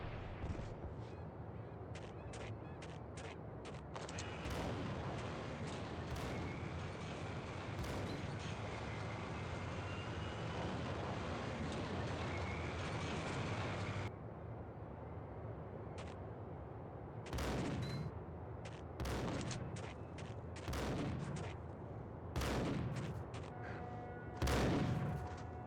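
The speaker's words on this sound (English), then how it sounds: "Who's shooting me?" Gunfire in the video game Max Payne: a dense, sustained fusillade of shots for about fourteen seconds, then sharp separate gunshots and bursts scattered through the rest, loud and close with no talking.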